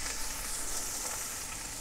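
Onions and garlic sizzling in a cast-iron Dutch oven after beef shanks were browned, a steady, dense hiss that carries evenly throughout, close and fairly loud, without speech.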